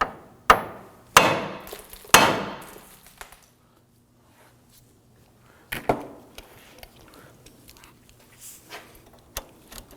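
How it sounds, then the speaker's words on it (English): A hammer strikes a Ford Focus steering knuckle to free the outer tie rod: three sharp metallic blows close together, a pause, then several quieter taps and knocks. "Now we're going to use our hammer to strike the knuckle right here."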